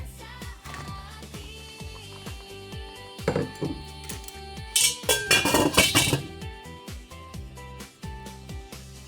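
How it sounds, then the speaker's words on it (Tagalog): Okra dropped into a simmering pot of salmon-head sinigang, with soft metallic clinks of a pot and utensils, a cluster of louder splashy clattering in the middle, over a background of music. "ihulog na rin natin ang ating okra"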